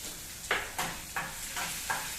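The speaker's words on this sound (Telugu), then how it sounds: "తాలింపు వేగిన తర్వాత ఇవి వేసేయండి. ఎండుమిర్చి వేయండి, కరివేపాకు వేసేయండి, పచ్చిమిరకాయలు వేసేయండి" Dried red chillies, curry leaves and green chillies sizzle in hot tempering oil, a steady close hiss broken by several rhythmic stirring scrapes roughly every second.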